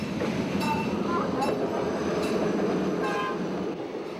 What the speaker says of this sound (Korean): 그런데 설상가상으로 기차까지 지나간다.